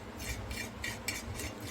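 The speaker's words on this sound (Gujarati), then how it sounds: "હવે આપણે બધી વસ્તુને સારી રીતે મિક્સ કરી લઈશું." Boiled small potatoes are mixed with chili powder and salt in quiet, rhythmic scraping and stirring strokes, about six in a row, with no talk.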